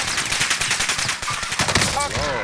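Rapid automatic gunfire in a Call of Duty match, loud bursts of shots stuttering continuously over a couple of seconds, ending with a whining effect.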